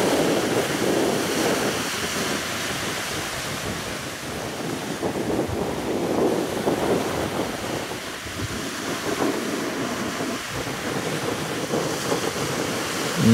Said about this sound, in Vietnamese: sóng đánh cơn nào cơn nấy